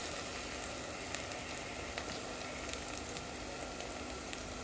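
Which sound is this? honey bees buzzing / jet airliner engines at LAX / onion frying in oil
onion frying in oil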